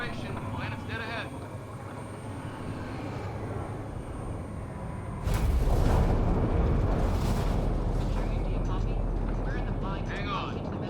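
Shuttle atmospheric entry in Mass Effect Andromeda, with a low rumble that swells into a heavy roaring buffet partway through and keeps rumbling under voices talking.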